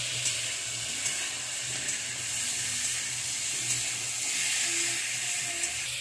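Potatoes, eggplant, tomato and green chillies sizzling in a pan with cumin, a steady close hiss of frying that runs evenly throughout, with no talking.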